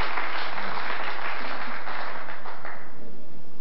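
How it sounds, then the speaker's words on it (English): Applause rises from the crowd at a 1996 WEPF men's team final, Australia against England, after a tremendous pot at the table: a dense, sustained wash of clapping, steady and fairly loud, fading slightly toward the end. "That one got some applause"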